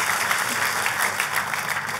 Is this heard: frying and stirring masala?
no